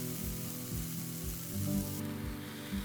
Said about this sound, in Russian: Укладываю филе на сковороду, накрываю крышкой, чтобы слишком сильно брызги не разлетались, и жду, пока филе станет румяного цвета.